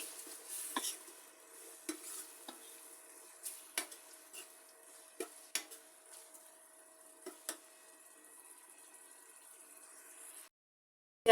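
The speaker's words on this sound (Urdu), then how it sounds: "اب میں اس میں ڈالوں گی ٹماٹر اور ٹماٹروں کی بھی بنائی کروں گی۔" Tomatoes fry with onion and garlic in a pan, giving a soft, constant sizzle with repeated scraping stir strokes and metallic clinks at irregular intervals, close and without speech.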